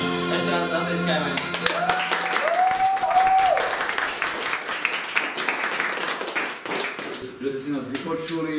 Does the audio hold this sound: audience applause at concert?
yes